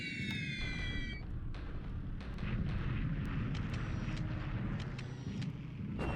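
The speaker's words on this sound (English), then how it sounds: "this is the first of a bunch of bombing raids I expect to hit these hexes up here" Bombing raid explosions rumble in the War in the Pacific war game, a steady low, grinding roar of continuous distant blasts with scattered sharper thuds throughout and a brief whistling tone near the start.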